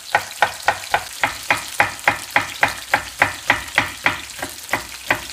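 Chicken pieces frying in a pan for a creamy Italian chicken dish, a steady sizzle broken by regular scraping stir strokes about every third of a second, close and fairly loud with no voices.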